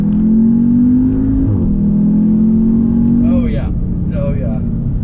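An Audi TTS engine drones loudly from inside the cabin while driving, holding a steady tone that dips once as it shifts, then revs again, with brief whirring sweeps near the end.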